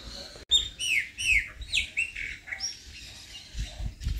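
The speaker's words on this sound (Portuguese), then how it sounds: "Felicidade dos passarinhos com a chuvinha, gente do céu." Small birds chirp after a light rain, a quick series of bright, sharp tweets and short calls close by, with some outdoor rustle underneath and no speech.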